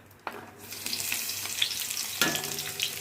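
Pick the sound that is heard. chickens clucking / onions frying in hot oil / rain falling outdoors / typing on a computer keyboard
onions frying in hot oil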